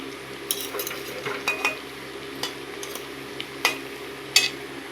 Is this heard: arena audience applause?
no